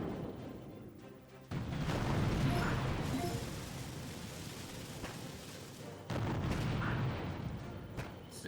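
Boom mine detonations in the mobile strategy game Boom Beach: two loud, rumbling blasts about four seconds apart, each followed by sustained crackling battle noise.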